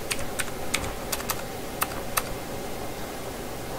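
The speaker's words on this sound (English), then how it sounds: "all you do is click in here, type in the frequency." Quick bursts of keystrokes on a computer keyboard while a frequency is entered to program a Baofeng radio, close, crisp clicks in a short run that fades to quiet.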